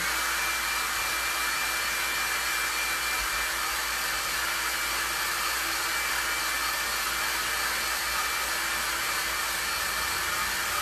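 A hair dryer blows a continuous, loud, steady whine and rush of air onto a freshly painted plastic remote-control holder, running without a break and without any talking.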